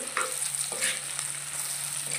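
Dried mango pieces frying in hot mustard oil for Assamese mango pickle, a steady close sizzle and crackle with brief stirring scrapes, no talking.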